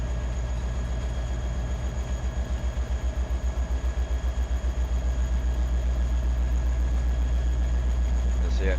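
A train in Farming Simulator 22 rolls slowly into a rail yard, its heavy engine droning low and steady with a rhythmic throb from the wheels, unbroken throughout.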